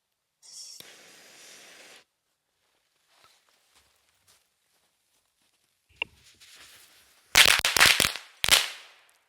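Larger El Toro firecrackers going off outdoors, a faint hiss and a few small ticks followed by a quick cluster of loud sharp pops and a final bang near the end.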